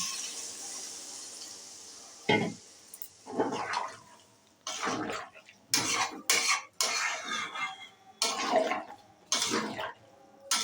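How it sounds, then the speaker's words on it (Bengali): Water pours into a pot of small new potatoes with cumin, turmeric and coriander, in several splashing bursts with metal clinks between brief quiet gaps. "এবার আমি জল দিয়ে দিচ্ছি আলুটা সিদ্ধ হওয়ার জন্য।"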